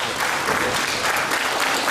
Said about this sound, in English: The fans clapping it up for David Tower